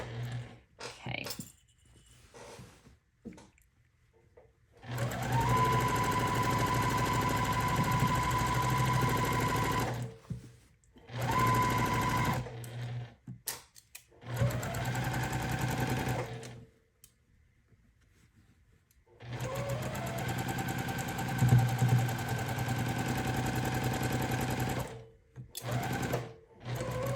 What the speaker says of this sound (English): a simple straight stitch machine like this one will do everything that you need it to do